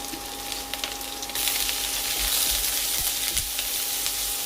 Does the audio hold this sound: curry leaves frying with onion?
yes